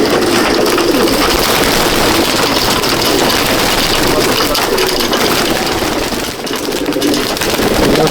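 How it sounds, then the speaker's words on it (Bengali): Many female pigeons released together from a loft at Mominpur, a broad steady wash of wing flutter and faint cooing close by, continuous throughout with a brief dip near the end. "একসাথে ছেড়ে দিয়েছে, অনেক পায়রা"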